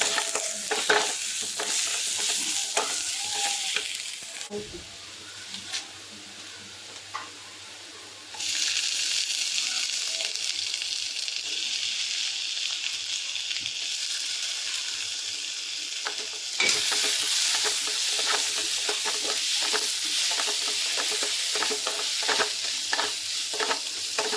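Crushed ginger and garlic frying in a pan for Kerala-style soya roast, with a dense continuous close sizzle and crackle lasting throughout, briefly dropping quieter midway before surging back louder, with no talking.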